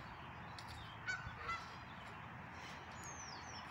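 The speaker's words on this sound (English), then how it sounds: "Let's go see if we can get some of those very vocal birds" Geese honking at a park, a couple of short calls standing out around the middle over steady outdoor background noise, with a person talking quietly.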